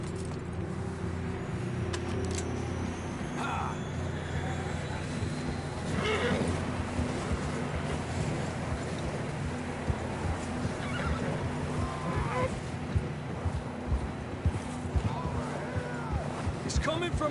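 A horse whinnies amid hoofbeats and ambient outdoor noise in the video game Red Dead Redemption 2, with people talking over it, the neighing recurring at moderate distance.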